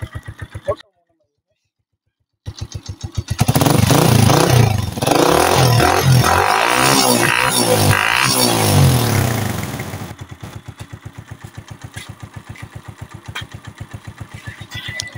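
A Honda TMX 125 motorcycle engine, just after a valve clearance adjustment, runs in a steady rapid chug up close. It drops out briefly, then returns louder with a revving surge before settling back to a quieter idle with a ticking rhythm.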